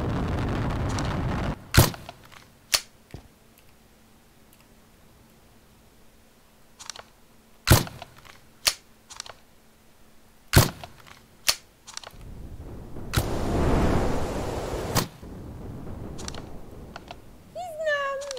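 Sharp, loud gunshots from a sniper rifle in the Brick Rigs video game ring out singly and irregularly, about half a dozen cracks spaced several seconds apart, with softer game noise and a brief voice between them.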